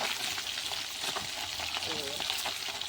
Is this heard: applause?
no